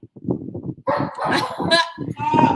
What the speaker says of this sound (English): I've got 6 dogs in my house.